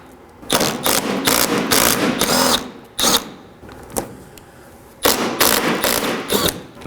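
A power tool whirs in repeated bursts while backing out 10mm bolts from the front bumper of a 2013-2019 Nissan Sentra, loud and close with short pauses between runs.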